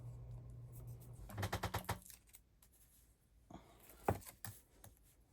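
Adhesive tape is handled at a sewing table while making a crossbody bag with D-ring connectors, with a quick burst of crinkling and tearing followed by softer rustles and a sharp tap, close and fairly quiet.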